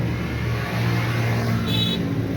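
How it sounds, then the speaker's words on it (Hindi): A 1987 Hino loader truck with a Multani body, its engine idling steadily at close range, giving a continuous low rumble with a faint high whine near the end and no talk over it. "इंजन स्टैंडर्ड की आवाज़ है"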